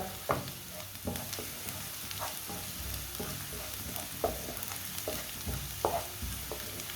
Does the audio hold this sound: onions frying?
yes